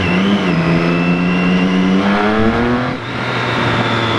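Triumph Street Triple R three-cylinder motorcycle with SC Project exhaust revving loudly up close, engine note climbing and holding, then dropping as the throttle closes.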